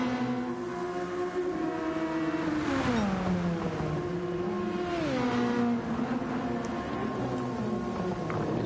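IndyCar race cars in a racing video game at the Red Bull Ring, running on full wet tyres, give a continuous engine drone with rising and falling pitch as they shift and accelerate, steady and fairly loud throughout.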